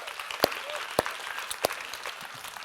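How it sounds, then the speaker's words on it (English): Conference audience clapping together in a steady patter, with a few louder nearby claps rising above the crowd at regular intervals; no speech over it. "big round of applause for the organizers for making this amazing stuff happen"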